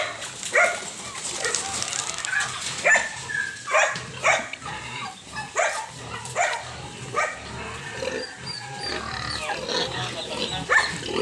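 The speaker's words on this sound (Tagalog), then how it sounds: "Yan, ang Mama Pig." A large, lame mother sow on a farm grunts in short bursts at close range while people talk steadily over and around the animal sounds.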